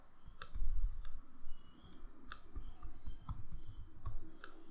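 Keys clicking on a computer keyboard as a password is typed, light irregular taps in short bursts with a few sharper clicks, close and fairly quiet, no talking.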